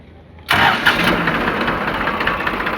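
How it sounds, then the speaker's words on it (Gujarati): New Holland 3037 tractor engine cranks on its battery self-starter and catches after about half a second, then settles into a steady, close mid-pitched running drone. "battery self start,"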